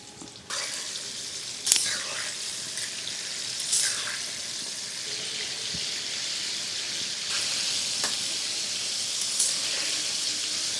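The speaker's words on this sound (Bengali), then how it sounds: "তেল গরম হয়ে গেছে এবার একটা একটা করে চিকেন ছেড়ে দিচ্ছি" Chicken pakora pieces for KFC-style pakora are lowered one by one into hot oil, setting off a continuous bright sizzle with a few sharper crackling bursts as more pieces go in.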